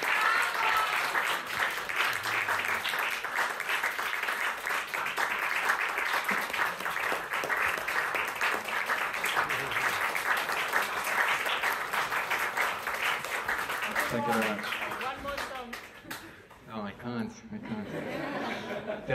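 Audience applause at a live piano concert in a London venue, sustained dense clapping throughout with a few chuckles, thinning briefly near the end before picking up again.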